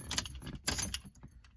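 A set of car keys for a 2006 Cadillac DTS jangles close up in a few quick metallic bursts, then falls quiet.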